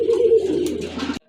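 A pair of pigeons coos close by, a low throaty warble sustained for about a second before stopping abruptly.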